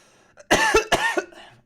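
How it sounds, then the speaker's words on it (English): A person coughs loudly at close range, two or three sharp harsh bursts in quick succession with a short throaty tail, otherwise quiet. "The cough means I have spoketh the truth."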